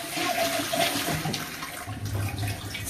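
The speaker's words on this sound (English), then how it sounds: "And how the flushing is in the wall." A wall-mounted hotel toilet flushes in a bathroom, giving a steady loud rush of water for about three seconds with a lower gurgling swirl near the end.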